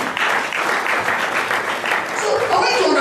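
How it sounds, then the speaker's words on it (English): Congregation applauding in a church service, a dense, steady wash of clapping that stays loud and even throughout with no break. "Clap for him."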